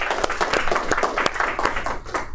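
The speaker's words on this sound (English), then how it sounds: "give Connor a round of applause too." A small audience at a talk and lunch event gives a round of applause, with individual hand claps clearly audible in a lively, uneven patter that stays fairly close and loud throughout.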